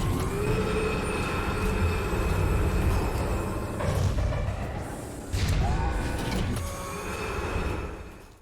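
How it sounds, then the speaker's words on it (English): A train car loaded with explosives rolls along rails in Jak 3, giving a steady loud rumble with faint wheel squeal and a few clanking bumps, heard alone before fading at the end. "This is a train car full of explosives."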